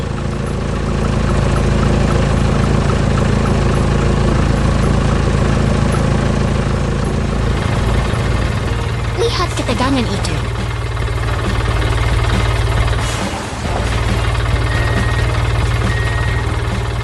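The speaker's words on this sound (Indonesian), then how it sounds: "Ekskavator dan truk sampah bersiap membantu mesin gilas yang terjebak tadi." An excavator and a dump truck from a 3D construction cartoon, set at a mountain wind-farm build site, run as a steady loud engine drone throughout. A narrator talks over it, with a brief rattling burst near the middle.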